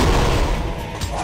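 An explosion in the mobile shooter game Brother Squad: a dense, loud, rumbling blast that fills the whole short moment with heavy low booming noise.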